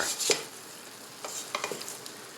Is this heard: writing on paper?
no